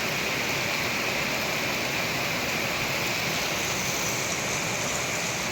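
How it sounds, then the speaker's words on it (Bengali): Heavy rain driven by strong wind pours down steadily in Uttara, Dhaka, a dense, even roar of falling water with no pauses throughout. "কীরকম বাতাস আছে এবং বৃষ্টি অত্যন্ত তুখর বৃষ্টি"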